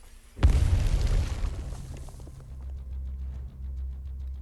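A grenade blast in the video game Arknights: one sharp, loud boom that bursts in and then rolls off into a long low rumble, with a steady deep drone carrying on underneath.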